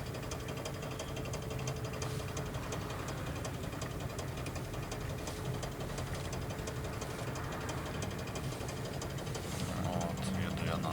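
A VAZ 2109 car is driven with a knocking, rattling rear right wheel: a continuous fast clatter and rumble heard inside the cabin over steady road and engine noise.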